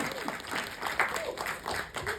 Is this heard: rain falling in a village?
no